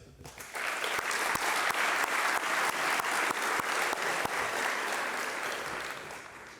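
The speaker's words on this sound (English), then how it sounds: "we did give him a very nice round of applause" A high school senior awards night audience gives a sustained round of applause, steady crowd clapping with a few sharp individual claps standing out, tapering slightly at the close.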